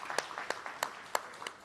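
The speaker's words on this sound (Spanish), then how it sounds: "Les pedimos un fuerte aplauso para todos ellos." A handful of sparse, separate hand claps ring out at a panel on addiction prevention and mental health, spaced about every third of a second against a low room murmur rather than building into full applause.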